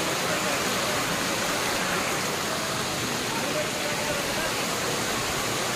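Bee Falls waterfall at Pachmarhi roars as a steady, loud broadband rush of falling water, unbroken and close throughout with no clear voices.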